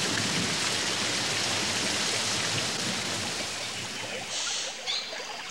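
Heavy tropical rain pours down steadily in the Pantanal wetland, a dense, loud, continuous roar of drops that eases slightly near the end.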